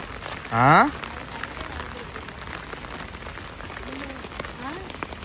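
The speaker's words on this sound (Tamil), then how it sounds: "பயங்கரமாக மழை பெய்யுது." Constant heavy rain pours in the background during the Mumbai floods, with a brief spoken word near the start and a fainter one later.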